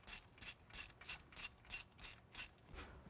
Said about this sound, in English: Just remove the bolts here that hold it down, the nuts that hold the carburetor mounted down.